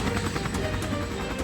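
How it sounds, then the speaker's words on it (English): Rescue helicopter coming down to land in rugged terrain, its rotor making a loud, steady rhythmic thumping over a dense engine roar with no talk. "found an area to lower the helicopter"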